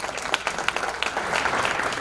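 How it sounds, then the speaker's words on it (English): An audience at a Chamber of Commerce luncheon gives a round of applause. The dense clapping builds slightly and fills the room steadily, with no speech over it. "So let's give them a round of applause."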